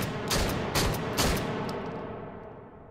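Toy Fisher-Price My First Shotgun firing in the VR game H3VR, three quick muffled shots in a row followed by a fading tail, moderately quiet.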